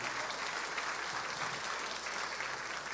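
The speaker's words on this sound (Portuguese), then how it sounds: "Você pode aplaudir o Senhor pela vida dele" A church congregation applauds during a worship service, a soft, even wash of many hands clapping at once, steady from start to end and somewhat distant, with no voices standing out.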